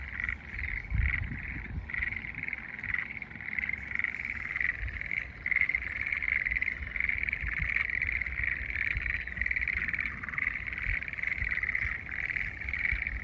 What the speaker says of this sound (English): The sounds of the frogs.